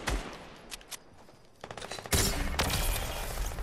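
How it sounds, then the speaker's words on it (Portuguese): Rapid bursts of gunfire from a small gun in a video game, loud and close, with dense volleys that swell into a continuous barrage in the second half. "Atira nele lá com essa arminha aí"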